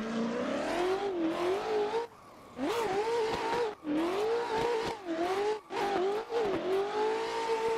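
Race car engine in a sim racing game at Fuji, played on a Moza R5 wheel, roaring loudly and continuously with rising revs, sharp drops at gear shifts into fourth and fifth, and a few brief lifts between pulls.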